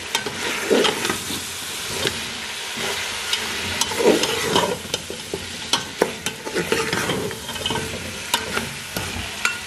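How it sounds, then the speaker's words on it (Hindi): Steady sizzling and crackling of mutton with spices and ginger-garlic paste frying in a pan, with scattered stirring scrapes and clinks throughout; no voices. "मैं पहले इन्हें फ्राई करूंगी"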